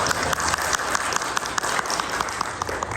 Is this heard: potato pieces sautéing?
no